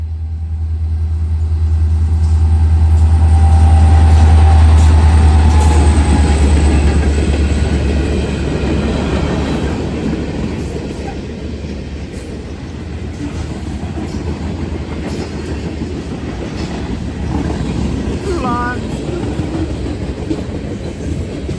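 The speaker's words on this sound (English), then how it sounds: "Here comes the Franklin Local running long hood forward." The Franklin Local freight train rolls past with its locomotive running long hood forward: a loud low engine rumble up close at first, then a long string of clattering, rattling freight cars with brief wheel squeal.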